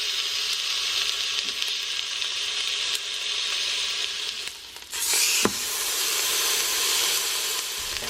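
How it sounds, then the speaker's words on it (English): Pork chops fry in a hot pan with a steady, loud sizzle and hiss, briefly surging in a sharper crackling burst midway before settling back into constant frying with no talking. "let's go ahead and let's start frying it up"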